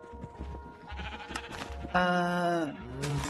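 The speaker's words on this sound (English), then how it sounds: "Sheep." A sheep from the video game Minecraft, on a modded server, lets out a loud, clear bleat partway through, with a faint earlier bleat and game sounds around it.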